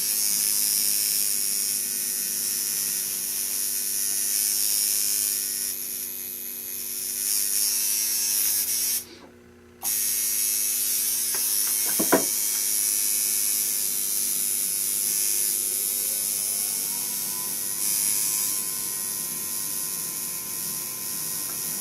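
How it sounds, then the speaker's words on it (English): A tattoo machine buzzes continuously while a tattoo outline is worked: a steady, close electric whirring hum that cuts out briefly once and restarts, with no talking. "if the machine's running good and you're moving along at a smooth pace"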